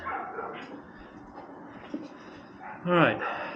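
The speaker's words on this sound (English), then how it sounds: "fucking dogs" Dogs barking and whimpering near a garage workshop during a 2022 Mustang GT airbox job, a brief louder bark-and-whine burst near the end over low background noise and faint talk.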